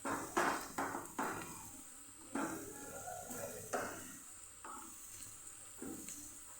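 Cumin, coriander and spice mix sizzle softly in a pan while a utensil scrapes and taps repeatedly at irregular intervals, close and fairly quiet.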